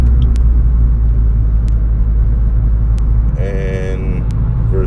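Steady low car rumble from a vehicle being driven, loud and continuous throughout, with a brief higher tonal whine near the end and a few faint clicks.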